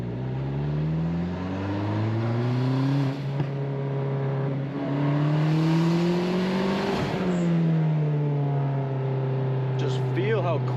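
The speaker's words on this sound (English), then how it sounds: "second gear, third gear is so addictive and fun" Turbocharged Mazda Miata ND engine pulling hard through second and third gear, its tone climbing and dropping at each shift, loud and continuous from inside the car, with a voice talking over it.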